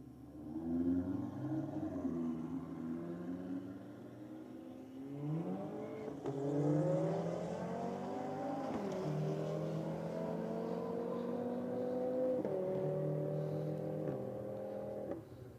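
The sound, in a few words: Audi roll drag race acceleration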